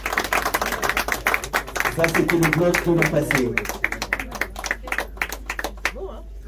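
Scattered clapping from a small gathering at a stamp-block presentation, sharp individual claps spread across the moment while several people talk and a voice speaks over them.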